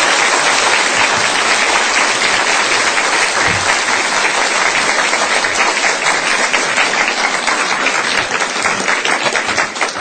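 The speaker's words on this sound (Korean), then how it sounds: "우리 권사님 뜨거운 박수로 환영해 주시기 바랍니다" A church congregation gives a loud, sustained round of applause welcoming a guest speaker to the stage for her testimony, a thick, even roar of many hands clapping close by throughout.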